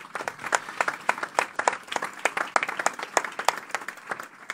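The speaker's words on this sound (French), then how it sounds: "Et vraiment un applaudissement aussi pour tous les invités qui ont fait de la route pour venir." A small audience applauds the guests at an anti-racism gathering with close, distinct individual claps in a brisk uneven patter, fairly near and moderately loud.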